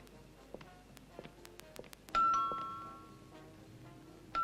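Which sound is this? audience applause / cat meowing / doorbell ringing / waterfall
doorbell ringing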